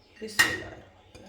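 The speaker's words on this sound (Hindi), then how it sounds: "अब इसको मैं वेजिटेबल और उस पर चिकन में मिक्स करूँगी।" A spoon clatters and scrapes in a bowl as vegetables and chicken are mixed into a club sandwich filling, with one sharp clank followed by softer stirring and scraping close by.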